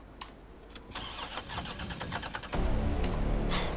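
A Dodge Challenger in Resident Evil 3 Remake cranks with several short sputtering bursts, then catches and settles into a louder, steady engine rumble close by.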